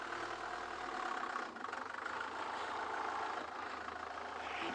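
A noisy safari vehicle idles on a morning game drive at Ngala Private Game Reserve, its engine holding a steady, close, unbroken rumble that dips briefly once before settling back.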